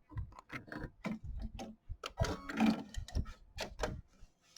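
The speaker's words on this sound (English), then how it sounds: "now we're ready to do the satin stitching" A sewing machine running a satin stitch on a quilt block, with quick repeated stitching ticks in steady bursts, fairly close and moderately loud.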